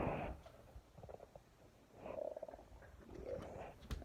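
A domestic cat purrs while being petted on a farm, a low close rumbling purr rising and falling in soft waves for several seconds.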